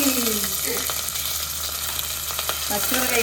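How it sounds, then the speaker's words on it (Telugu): Green chillies sizzle and crackle in hot oil for a mango masala curry, a steady broadband hiss with sharp pops throughout, with a faint voice briefly underneath. "ఇప్పుడు పచ్చిమిరపకాయ వేసుకున్నాము ఇంకా చట్చట అంటుందా"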